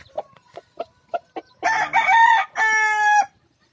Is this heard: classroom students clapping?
no